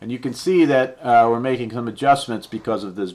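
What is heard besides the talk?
No everyday noises stand out.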